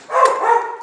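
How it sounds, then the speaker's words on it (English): A cattle dog on a job site installing 2x6 tongue-and-groove structural wood flooring gives one loud, close, sharp bark reacting to a nail gun. "My cattle dog doesn't like nail guns."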